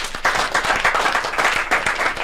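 A crowd claps for local vigilantes at a community gathering, a brisk, continuous patter of many hands held at a steady level throughout.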